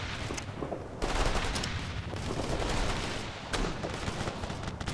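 Dense gunfire in the video game Operation Flashpoint: Red River, with rapid overlapping bursts and sharp cracks in a loud, continuous barrage that swells and briefly eases, no clear voices.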